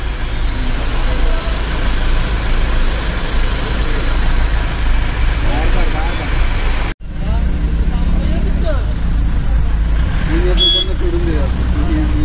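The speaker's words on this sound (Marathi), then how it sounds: "पूर्ण ट्रॅफिक जाम झालंय बघा." A traffic jam on a mountain road toward Badrinath after a landslide, with idling car and bus engines rumbling steadily, horns tooting, and voices in the background. The roar cuts out briefly midway, and a few horn blasts follow near the end.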